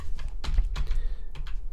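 Computer keyboard keys struck hard and fast during a game of Pac-Man (1982) on DOS, a burst of loud, close clacks in irregular clusters with no talking.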